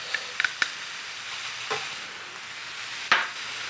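Garlic sizzles in a hot pan, a steady soft frying hiss with a few faint stir clicks and a sharper scrape near the end, fairly close and with no talking.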